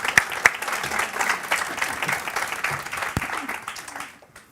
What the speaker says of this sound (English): can we just give them all a round of applause, please?